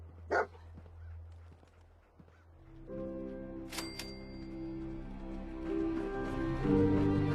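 Dogmeat the dog in Fallout 4, a few short barks and yips in the game, faint against background music and ambient tones that build over the clip.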